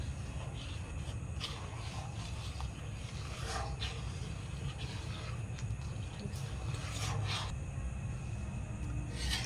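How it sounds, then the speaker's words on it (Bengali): Rice flour is stirred into milk in a pan while making firni, giving a continuous low scraping and bubbling texture with a few faint clinks, fairly quiet and without talk. "চালের গুঁড়োটা দিয়ে ভালো করে এটাকে নেড়ে নিতে হবে।"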